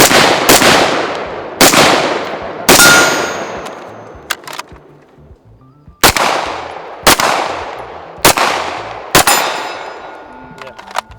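Loud gunshots ring out at an outdoor shooting range, seven sharp reports in two bursts with ringing metallic steel-target clangs and decaying echoes, a short pause separating the groups.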